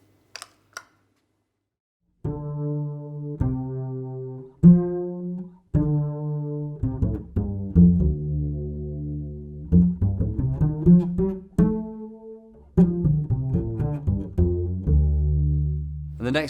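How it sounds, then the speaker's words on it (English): Bass guitar run through a chorus pedal, with a wobbly, shimmering tone on a melodic line of plucked notes after a brief pause at the start, played up close with no talking. "so it creates this sort of wobbly effect to the bass notes that I'm creating"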